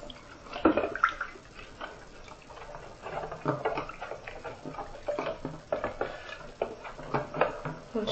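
A plastic hamster ball is washed by hand with water and soap, giving irregular close splashes, drips and light plastic knocks that rise and fall through the whole stretch.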